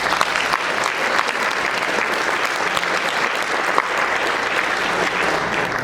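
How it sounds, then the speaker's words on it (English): At a CSCA Hall of Fame luncheon and business meeting, a room of attendees gives a continuous round of applause, a full and steady clapping texture with no pauses. "Could you please give them a round of applause?"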